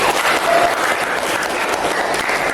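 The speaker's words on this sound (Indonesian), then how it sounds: "Ya, tepuk tangan dong." Students in a classroom clap their hands together, a steady dense patter of applause that continues evenly throughout at close range.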